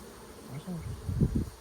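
Honey bees buzz around an open hive during an inspection of the brood frames, a low droning hum that swells louder toward the end of the short stretch.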